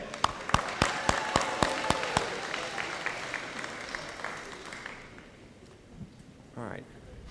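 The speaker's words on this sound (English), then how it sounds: "give a round of applause to those sitting here today" Graduation ceremony audience at Hocking College clapping for family and friends, starting with a few sharp distinct claps that swell into broad applause, then fading out to near quiet with a brief shuffle at the end.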